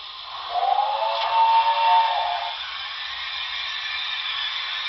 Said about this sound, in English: Lumber mill sounds, 21.